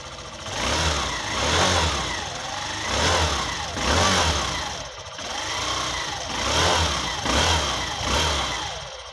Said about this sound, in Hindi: यहाँ पे आप इंजन की आवाज़ सुन सकते हो